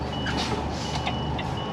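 Steady high reversing beeps from a truck backing up at an industrial estate in Aberdeen, sounding over a constant low diesel engine rumble, with no talking.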